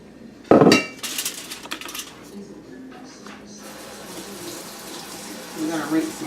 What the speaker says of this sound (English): I'm going to rinse my little spoon off that I was using for the seasonings.